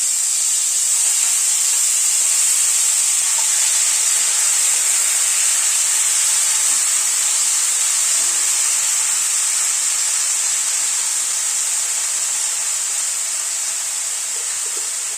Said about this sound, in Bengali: নারকেল কুচিটাকে অল্প ভেজে নেওয়ার পরে মোচাটা দিয়ে দিচ্ছি।